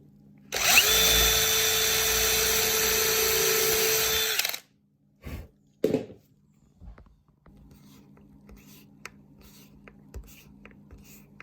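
A power drill drives screws into a wooden stair plinth in one loud, sustained whine of about four seconds, followed by a few short knocks and clunks of handling the wood, then quiet room noise.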